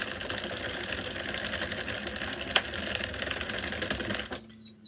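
A hand-cranked circular sock knitting machine runs in a steady, rapid mechanical clatter of needles, close and fairly loud, then stops abruptly just before the end.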